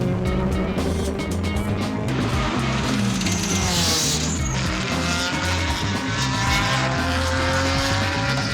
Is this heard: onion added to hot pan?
no